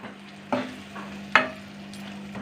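A spoon stirs chicken masala frying in a kadhai over a medium flame, with two sharp metallic scrapes standing out above a soft sizzle and a steady low hum.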